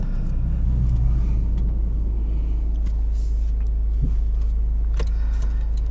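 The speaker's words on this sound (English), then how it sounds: "This is a torquey 3-cylinder, very torquey 3-cylinder." Engine of a 2023 Toyota GR Corolla, a torquey three-cylinder, pulls from low revs on a test drive; a steady, loud low rumble continues throughout with road noise and no talk.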